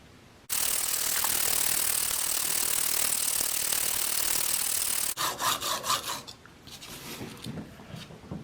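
Swacker 252 broadhead blade with a damaged edge being sharpened, a long steady close rasping grind that stops abruptly, followed by a series of shorter rhythmic scraping strokes that fade, with no voices.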